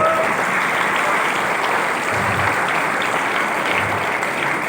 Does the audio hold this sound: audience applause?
yes